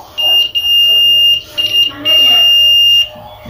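A multimeter's continuity buzzer sounds while probes test a PNP or NPN transistor for a Joule thief circuit, giving a steady high beep in several bursts, one long tone held near the end, over faint background noise.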